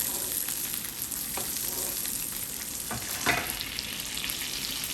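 Sirloin steak sizzles hard in a pan as it is basted, a loud, continuous frying hiss broken by short spoon scrapes and spatters, with no talking.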